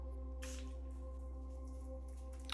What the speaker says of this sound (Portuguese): Vou borrifar ele no papel agora.